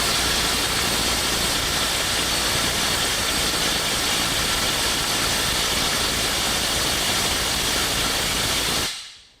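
A DeWalt DCF923 Atomic impact wrench on a PowerStack battery hammers a fastener during a torque test, a loud, dense, unbroken rattle lasting about nine seconds before cutting off abruptly.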